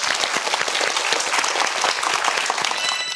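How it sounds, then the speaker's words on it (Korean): A studio audience at the Korean quiz show Jang Hak Quiz breaks into loud, close applause, many hands clapping densely and evenly throughout. "박수로 청해 보겠습니다"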